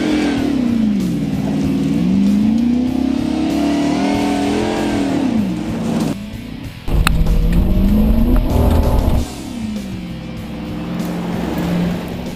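Chevy or Ford police car racing through very soft dirt, its engine revving and bogging down, the pitch rising and sagging in long swells with a brief rough burst midway, heard loud and fairly close throughout.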